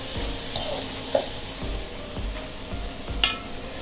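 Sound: shrimp being stir-fried in a pan

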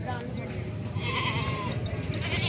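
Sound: goat bleating at livestock market

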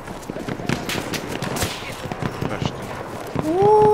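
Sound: gunfire in Battlefield 1 video game

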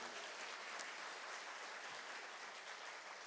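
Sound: congregation clapping to honour God

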